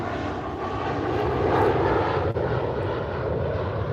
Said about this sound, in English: I'm not sure if the plane interfered.